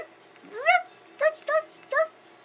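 A man imitates a dog barking with his voice, giving one drawn-out rising yelp followed by three short, evenly spaced bark-like calls, close and fairly loud with nothing else around them.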